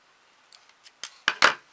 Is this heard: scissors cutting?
yes